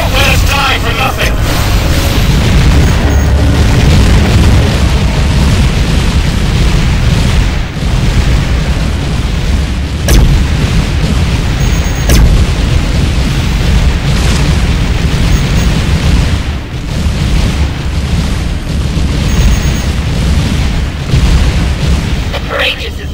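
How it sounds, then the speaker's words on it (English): Large explosion of a mining station in the space combat game Tachyon: The Fringe, a sustained loud rumbling boom with sharp cracks layered over continuous battle noise, while voices talk over it. "Now that was an explosion, folks."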